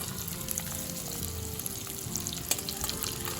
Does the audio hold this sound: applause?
no